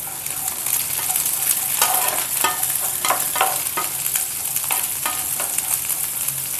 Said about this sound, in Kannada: ಸೊ ಎಣ್ಣೆನಲ್ಲೇ ಮುಕ್ಕಾಲು ವಾಸಿ ನೀವು ಫ್ರೈ ಮಾಡ್ಕೋಬೇಕು